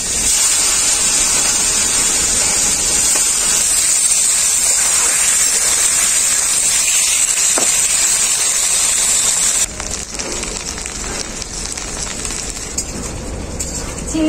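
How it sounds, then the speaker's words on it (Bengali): Shrimp fry in hot mustard oil in a wok, a loud, continuous close sizzle that shifts in texture partway through. "চিংড়ি মাছটা আমি খুব ভালো করে ভেজে নিয়েছি, একদম লাল লাল করে"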